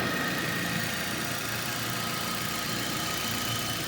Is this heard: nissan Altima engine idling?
yes